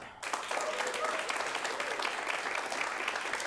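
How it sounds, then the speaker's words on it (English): A holiday film showdown audience claps to vote for a film, the applause starting abruptly after a brief quiet moment and continuing as a dense, steady wash of many hands, with faint voices mixed in. "you're going to clap loudest for the 2 films you want to see go on to the next act"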